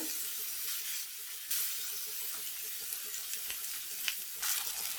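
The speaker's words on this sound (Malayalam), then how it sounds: "എണ്ണ നല്ലപോലെ ചൂടായിട്ടുണ്ട്. ഇനി നമുക്ക് ഈ മീൻ ഇതിലേക്ക് വെച്ച് കൊടുക്കാം." Steady crackling sizzle of karimeen (pearl spot fish) frying in hot coconut oil over a low flame, with occasional louder pops and spits, quiet and close, no voices.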